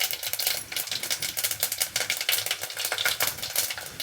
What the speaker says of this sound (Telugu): మినపప్పు, శనగపప్పు, పోపు దినుసులు చిట్టుపట్టలాడుతున్నాయి కదా.